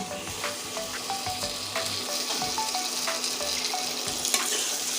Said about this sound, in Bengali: এখানে আছে ভেজে রাখা আলু এই আলুটা এবার দিয়ে দিচ্ছি